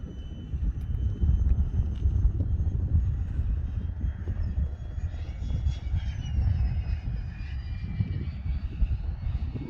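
A 95-inch scale RC FA-18C jet model on its maiden flight drones steadily overhead, a continuous whooshing roar with a thin high whine shifting in pitch, buffeted by wind noise on the microphone.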